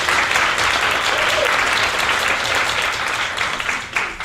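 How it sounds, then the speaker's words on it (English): An audience at the CUSP Students Awards 2017 ceremony applauds: loud, dense clapping from many hands that holds steady, then thins and tapers toward the end. "you really need to give yourselves, all of you, an applause first before we start"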